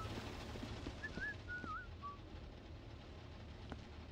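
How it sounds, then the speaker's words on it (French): A few short, wavering whistled notes in the video game Viscera Cleanup Detail rise and fall over a steady low background hum. "J'entends siffler maintenant."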